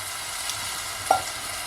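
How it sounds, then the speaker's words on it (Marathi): Drumstick pieces sizzle gently in a hot spice tempering, a faint, steady frying hiss with one brief louder crackle near the end. "शेंगट्याच्या बोट्या फोडणीला दिल्या आहेत, त्या आता शिजतील"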